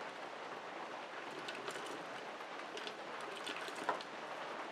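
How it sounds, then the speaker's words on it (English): Steady downpour of heavy rain outside, a continuous wash of hiss with scattered sharper drip and splash ticks, no voices. "It is pouring down rain."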